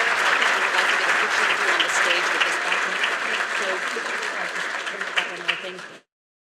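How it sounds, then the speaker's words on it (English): A crowd of guests at an evening lecture at the U.S. Naval War College applauds retired Navy Captain Sunita Williams, with dense, loud, sustained clapping that swells and then cuts off abruptly. "please join me in a round of applause for Captain Williams."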